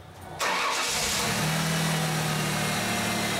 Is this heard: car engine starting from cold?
yes